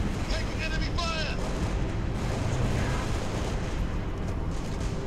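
Heavy gunfire in the Halo Reach video game: a dense, unbroken roar of weapons fire and blasts that stays loud and close for the whole stretch, with no clear gaps between shots.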